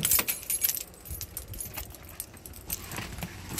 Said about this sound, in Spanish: Ay, disculpen el sonido de mi carro.